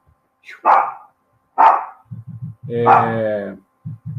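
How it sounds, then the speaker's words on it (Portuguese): A dog barks close by, sharp single barks followed by a longer howling bark, with low quick thumps in between. "Gente, foi mal o cachorro."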